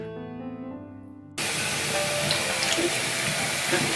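Tap water gushes loudly and steadily over altari radish pieces being rinsed after a soak in cider, cutting in abruptly after a brief tonal hum and running continuously close by.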